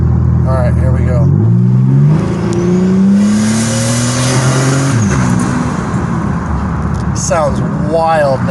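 A 1999 Buick Regal GS with a turbo and dual 3-inch straight-pipe exhaust accelerates hard, its loud engine note climbing through the gears with shift breaks, close and dominant, with a voice heard briefly.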